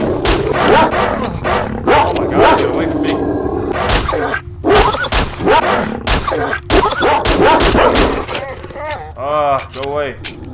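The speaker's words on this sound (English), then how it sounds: "Oh my god, that's a pseudo dog." A pseudo dog, a mutant dog in the game STALKER: Shadow of Chernobyl, lets out loud, repeated bursts of snarling and barking, mixed with shouting voices and short sharp bangs.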